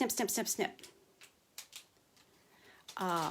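Scissors snip through foam adhesive sheets in a few light, scattered cuts, heard between and after stretches of nearby talk.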